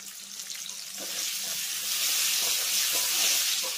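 Chopped medium tomato drops into cumin frying in oil, and the hiss swells after the first second into a steady, bright sizzle that holds to the end.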